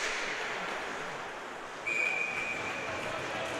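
A referee's whistle at a high school varsity ice hockey game, one sharp sustained blast cutting through steady arena crowd noise.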